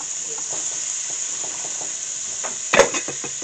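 Green peppers and onions fry in a pan with a steady hissing sizzle and faint scraping. A louder clatter comes near the end as more vegetables go in.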